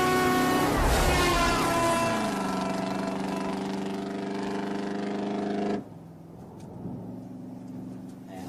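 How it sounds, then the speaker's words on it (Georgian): A car engine hums loudly and steadily, its tone sliding lower as it nears, then cuts off abruptly into a quieter background. "არა, მანქანა მოდის."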